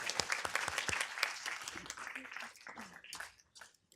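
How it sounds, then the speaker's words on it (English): Applause from an audience at a city council meeting for a Boy Scout troop after its color guard retreat, a dense burst of clapping that tapers off toward the end, with some voices mixed in. "Let's give them a round of applause."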